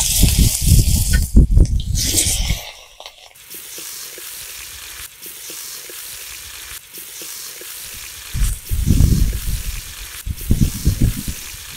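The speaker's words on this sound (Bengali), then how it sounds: "মাছ ভাজা হয়ে গেছে, এখন নামিয়ে ফেলি।" Hilsa fish pieces frying in hot mustard oil in a pan: bursts of loud, crackling sizzle at the start and again near the end, easing to a quieter steady hiss in between.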